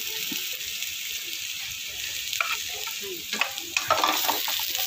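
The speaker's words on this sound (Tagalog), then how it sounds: "Igigisa lamang ito hanggang sa maluto-luto na ito at lumabas ang kanyang aroma." Onions and other aromatics sauté in a pan, a close, continuous sizzle that swells toward the end as spoon stirs and scrapes against the metal.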